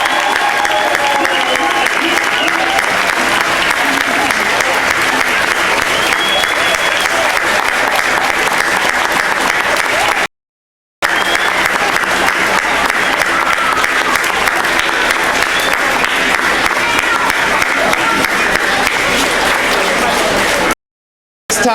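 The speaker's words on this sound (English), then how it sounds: "Let's give our 8th grade group one final round of applause." An audience at a 2015 school awards and graduation ceremony at Emerson gives the 8th grade group a final round of applause: loud, dense, continuous clapping that runs unbroken apart from two brief dropouts.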